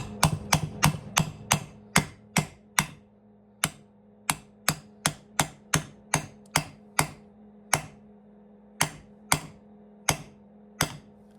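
Sharp metallic hammer blows seat bearings into the crankcase of a Stihl 046 chainsaw, about twenty close, loud strikes in a steady rhythm, fast at first and then more spaced out, with no talking.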